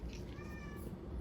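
A pet cat near a home kitchen gives a single short meow, faint and close, at dinner time.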